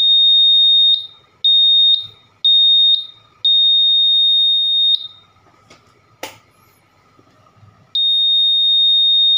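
Honda Vario 150 smart key system buzzer signalling a failure: a loud, high electronic beep sounding in a series of short pulses, then a longer tone after a brief pause, with faint clicks and handling noise in between.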